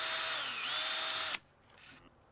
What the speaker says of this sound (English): Now the posts are pre-drilled for the railing brackets.